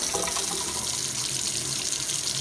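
Water runs steadily from a tap indoors, a continuous hissing splash that stays loud and even for the whole stretch with no voices over it.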